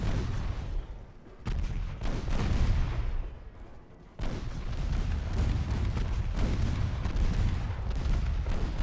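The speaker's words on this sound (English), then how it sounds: "And torpedo detonation, that was good." Naval artillery fire and a torpedo detonation in the warship game Ultimate Admiral Dreadnoughts, heavy rolling booms in two loud bursts separated by a brief lull, then sustained rumbling.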